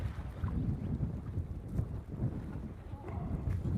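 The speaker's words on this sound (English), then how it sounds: "I'm gonna need that wind to calm down" Steady wind gusting across an open lake, a continuous low rumble with buffeting noise against the microphone throughout, no talking.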